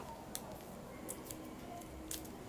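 A boiled egg's shell being peeled off by hand gives faint, scattered crackly ticks and crinkles over a soft, steady background hiss.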